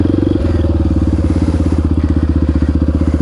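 A Honda XR650R supermoto's single-cylinder engine lopes well under idle, loud and close, a slow, steady train of heavy thumping pulses with no talk over it.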